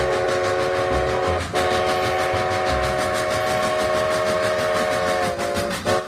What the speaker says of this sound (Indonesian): yang ini ada kereta api lokomotif